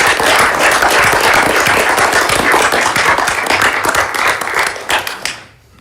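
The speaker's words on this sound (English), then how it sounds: "would like to ask the board for a round of applause for their efforts" A board of visitors at a university committee meeting gives a round of loud, dense applause that holds steady for about five seconds, then fades out quickly at the end.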